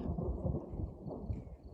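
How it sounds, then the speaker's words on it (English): Low, rolling thunder rumbles through a brief moment of a storm near Big Painted Cave in Lava Beds National Monument, heavy and continuous with no voices. "thunder and lightning, I can just starting to feel the rain come down."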